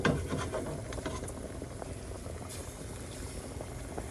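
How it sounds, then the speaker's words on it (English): A pot of paper being boiled for eco dyeing gives a steady, close bubbling and simmering hiss, with faint rubbing or scraping touches and no talk. "I'm going to let this boil for about an hour."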